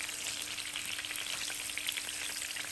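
Fish, a mrigal, frying lightly in a pan of oil over a medium-high flame gives off a steady, even sizzle with fine crackling. It runs unbroken throughout and no voice speaks over it.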